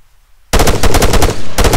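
Machine gun fire in the Arma 3 infantry combat game rings out after a brief silence, a loud rapid burst of closely spaced shots that pauses for a moment and then resumes.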